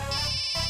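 A mobile phone rings in a TV crime drama, a short bright electronic ringtone held for under a second, loud and close.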